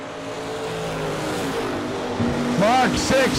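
A Nova drag race car running at a drag strip during a New Year Nationals event, its engine a steady loud drone throughout, with a rising pass and a brief announcer voice near the end.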